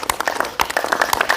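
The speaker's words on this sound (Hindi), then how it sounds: "तेजी के साथ, शक्ति के साथ बजाइए तालियां।" Outdoors on a field at a World Yoga Day gathering in Mundhal, a group claps hands fast and hard, a brisk run of sharp, uneven claps over a short burst.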